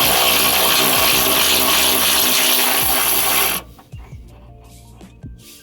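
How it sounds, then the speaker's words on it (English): An electric ratchet spins hard on the rear motor mount bolts of a 2012-2015 ninth-gen Honda Civic Si, a loud, dense mechanical whir for about three and a half seconds that cuts off abruptly, leaving faint clicks and rattles. "I'm gonna take my electric ratchet"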